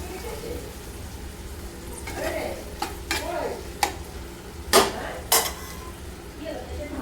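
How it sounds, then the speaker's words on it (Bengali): Tomato sauce being stirred into chilli paneer in a pan, a soft sizzle under intermittent scraping and clinking of a spoon against the pan, several sharper knocks toward the middle, no talking. "দিয়ে ভালো করে নাড়াচাড়া করে নেব"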